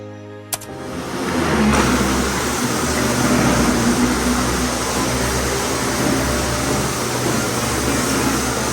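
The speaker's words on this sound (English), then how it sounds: "I'm resurfacing it now, getting all that old protection off and old dirt and grime" A loud, steady mechanical whirring roar from a floor resurfacing machine sanding red oak hardwood floors starts after a brief click and runs continuously close by.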